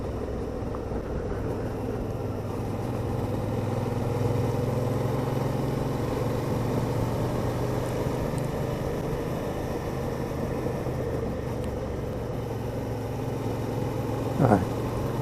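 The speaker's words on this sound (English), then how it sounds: "Perfect engine, this V-twin. Really is nice." A Suzuki V-Strom 650 V-twin motorcycle engine hums steadily at cruising speed on the Honister Pass in the English Lakes, a low continuous drone with wind noise throughout and a brief sharp sound near the end.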